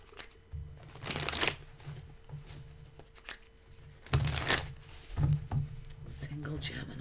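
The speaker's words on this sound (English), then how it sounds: "Just give these a quick shuffle." A deck of tarot cards is shuffled by hand in quick bursts of riffling and rustling, with a steady low hum throughout and occasional soft handling noises between the shuffles.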